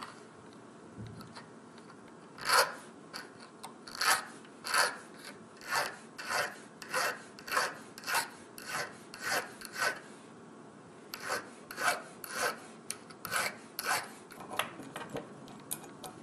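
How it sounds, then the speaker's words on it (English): Sandpaper sanding a small metal piece by hand, a run of even back-and-forth rasping strokes in a steady rhythm, close and fairly quiet, with one brief pause midway and no talk. "I'm still going to use some sandpaper to shine it up a little bit"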